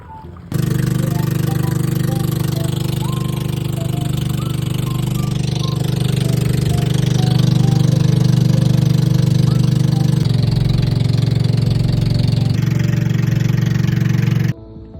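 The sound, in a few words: fishing boat engine running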